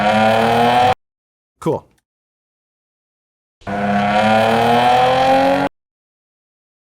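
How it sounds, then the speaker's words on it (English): Car engine sound effects roar in two loud bursts with rising revs and tire squeal, separated by silence, with a brief spoken word in the gap between them. "I have 2 of the same engine sounds"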